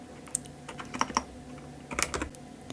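Fingers tap on a computer keyboard in short, quiet bursts of clicks with pauses between them. The keys sound close and soft, with no voices over them.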